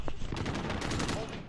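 Rapid gunfire from a Destiny match, a burst of closely spaced shots rattling steadily through the whole moment, loud and dense, with a faint voice underneath.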